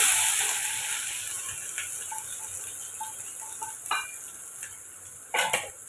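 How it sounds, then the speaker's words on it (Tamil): Mustard seeds and ground coconut sizzle and crackle in hot oil, a steady faint hiss with scattered small pops and a couple of sharper spatters near the end. "எண்ணெய் காஞ்சதும் கடுகு சேர்த்துக்கலாம் கடுகு பொரிஞ்சதும் நம்ம அரைச்ச தேங்காய் அதையும் சேர்த்துக்கலாம்"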